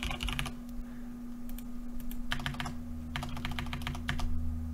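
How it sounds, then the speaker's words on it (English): Rapid bursts of keystrokes on a computer keyboard as an address is entered into an online form, several quick runs of clicks separated by short pauses over a steady low hum. "So I'm just going to type in an address here."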